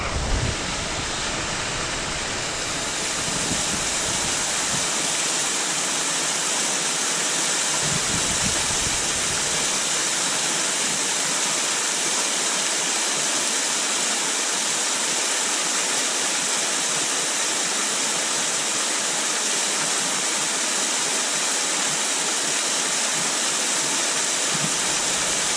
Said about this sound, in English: Here's another shot from the side of the waterfall.